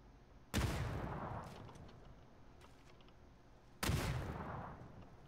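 Two separate gunshots in PUBG are fired at a player, each a sharp crack followed by a long, trailing echo. They land about three seconds apart and are fairly quiet overall.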